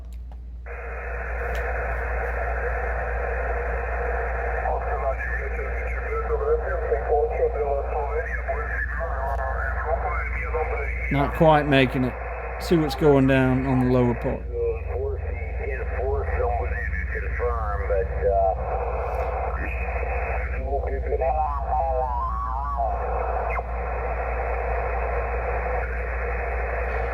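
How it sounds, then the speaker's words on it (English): Steady band-limited static hisses from a Flex Radio 6300 amateur transceiver throughout, with a voice talking over the noise and brief warbling tones in the middle. "I'm not really the biggest fan of listening to static on YouTube"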